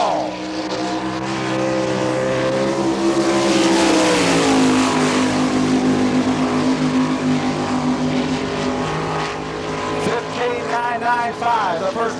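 Sprint race car engine screaming around a half-mile dirt track during an All Stars NCRA event in Belleville, Kansas, loud and sustained, with pitch dropping into a turn and then climbing as it accelerates, while an announcer talks over it.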